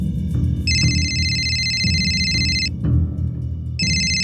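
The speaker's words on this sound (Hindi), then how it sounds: "किसका फोन है?" A mobile phone rings at home in a crime drama, its electronic tone sounding in loud repeating bursts with short gaps, over a steady low background drone.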